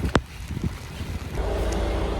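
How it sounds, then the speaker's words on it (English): Strong wind blows outdoors in Iceland, a steady rushing roar buffeting the microphone close up, with a few brief thumps near the start. "It's very windy."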